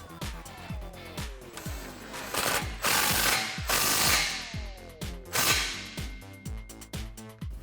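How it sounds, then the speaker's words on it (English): A ratchet wrench tightens the 13 mm bracket bolts of a Flowmaster American Thunder dual exhaust on a Jeep Gladiator JT, giving repeated close clicking strokes in bursts with metallic rattles between them. "we're gonna start tightening all the brackets down from front to back"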